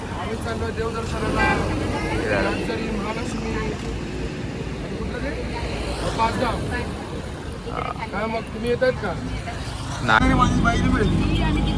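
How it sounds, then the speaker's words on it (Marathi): Auto rickshaws carry a group through busy traffic, with a constant engine rumble, road noise and occasional horn toots around them while people talk close by. "रिक्षा आली आपली आहे, रिक्षामध्ये बसले सगळेजण"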